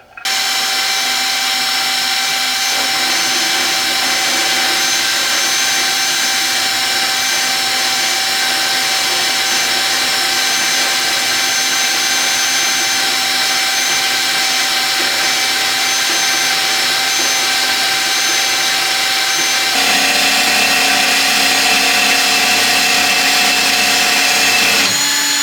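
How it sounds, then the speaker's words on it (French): A band saw cuts steadily through material during repair work on an air compressor: a loud, sustained mechanical whine and hum with a constant tone that shifts slightly near the end. "les coupes avec une scie à ruban, c'est plus long à faire, mais quand même c'est d'une précision."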